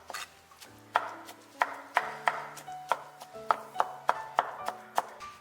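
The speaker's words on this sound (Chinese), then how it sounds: "这是我提前卤好的五花肉，用刀给它剁碎" A knife chops braised pork belly on a board, with about a dozen sharp, close strikes falling in a fairly regular rhythm that quickens slightly toward the end.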